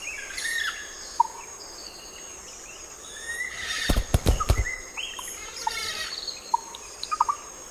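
A juvenile hoatzin moves along a branch amid outdoor forest ambience, with scattered bird calls, chirps and insect sounds, and a loud, harsh burst of calling around the middle.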